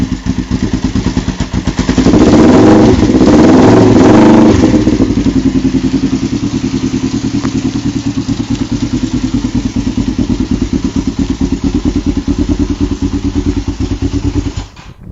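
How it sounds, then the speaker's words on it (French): A 1997 Kawasaki ER-500 motorcycle engine runs close by with a steady, chugging exhaust note, briefly revving louder for a couple of seconds near the start before settling back to an even idle that continues to the end. "Mais d'entendre ce bruit d'échappement, oh là là, ça me donne envie d'aller rouler."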